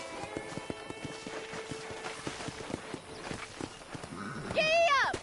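Horse hooves clip-clop steadily at a walking pace while riding in Red Dead Redemption, a rhythmic series of hoof strikes under speech and game music, ending with a horse's whinny.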